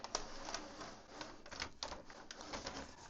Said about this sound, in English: grab the paper and pull it towards you